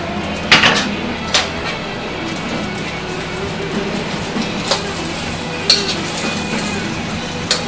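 Greens tossed in a pan with beef in black bean sauce, a steady clatter of utensil against pan with a few sharper clinks standing out over a continuous low cooking rumble.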